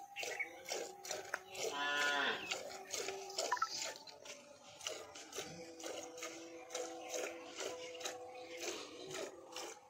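A cow and her calf lowing around milking time, several drawn-out moos rising and falling close by, with faint shuffling and a few low voices in the background.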